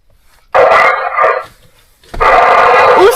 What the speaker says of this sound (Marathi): तिकडे ना कुत्रे बुकतायत बरं का केव्हाचे बुकतायत ते कुत्रे